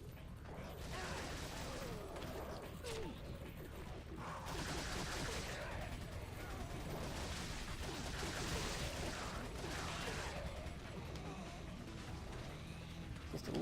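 Rapid video-game gunfire from Resident Evil 4 Mercenaries, bursts of shots mixed with mechanical clatter and reload clicks, dense and continuous at moderate level with no talking.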